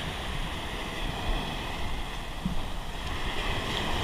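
Surf at Nivti Beach on the Konkan coast near Parule: a steady, moderately loud wash of waves with wind rushing across the microphone, no voices.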